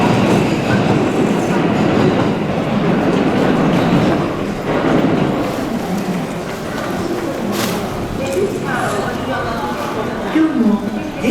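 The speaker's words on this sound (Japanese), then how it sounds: "まもなく14番乗り場に当駅止まりの電車が参ります。" A JR West Yamatoji Line train pulls into platform 14 at Tennoji station, terminating there, with loud rumbling wheels and rail clatter close by, under station announcements and platform chatter.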